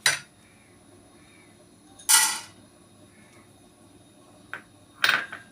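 Roasted ingredients for a peanut chutney are tipped from a pan into a kitchen vessel, giving a few sharp metallic clinks and scrapes at intervals over a quiet room hum.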